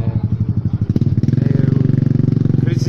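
A Krypton R motorcycle engine, rebuilt, putters loudly up close, starting with uneven thumping pulses that settle into a fast, steady idle beat, with a voice briefly talking over it.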